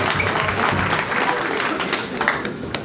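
Crowd at a Don't Flop rap battle bursting into applause and cheers, a dense continuous roar of clapping and shouting that stays loud throughout.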